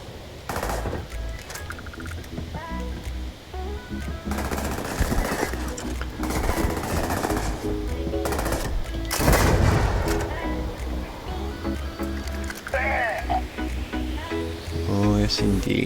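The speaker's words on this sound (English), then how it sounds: "I mean, it is a grenade launcher." An Ashta Tamer grenade launcher fires in Starfield, its booming shots and blasts repeating amid steady in-game combat noise, loud and close, with someone talking over much of it.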